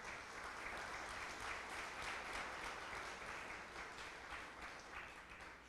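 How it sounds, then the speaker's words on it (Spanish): A church congregation gives steady applause, a continuous wash of many hands clapping that sounds somewhat distant and muffled, sustained evenly throughout. "Denle un aplauso al Señor por esa palabra."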